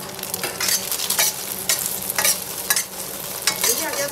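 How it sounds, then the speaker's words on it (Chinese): Beaten egg hitting hot oil in a wok and being stir-fried, a continuous loud sizzle broken by repeated scraping strokes of a spatula, close up with no talking. "然后倒入鸡蛋液， 首先我们要给它滑散"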